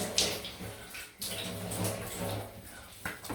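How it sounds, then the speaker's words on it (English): Cold water splashes at a sink while someone rinses their face after a shave with a DE safety razor and shaving soap. Brief bursts of splashing and running water come close and moderately loud, with no talking. "you will hear the splash"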